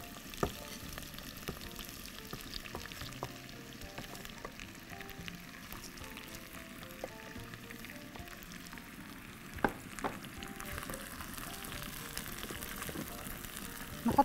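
Lentils go into a pot for lentil soup and are stirred, with a faint, steady sizzle and soft, scattered scraping and tapping sounds.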